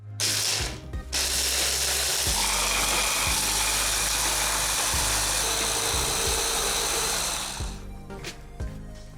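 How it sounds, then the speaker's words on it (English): Almonds ground fine in a kitchen mixer: a loud, steady grinding whir that runs for about seven seconds with rattling pulses, then cuts off near the end. "Prepare 100 grams of almonds finely ground in a mixer."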